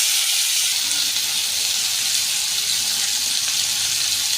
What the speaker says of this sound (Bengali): এরপর আমি এই সেদ্ধ করা ছোলা আর আলু দিয়ে একটু নেড়ে নেব।